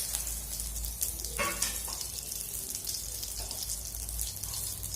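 Cumin seeds and chili frying in hot oil in a pan, a steady close sizzle and crackle running throughout, with a brief burst of louder spattering partway through.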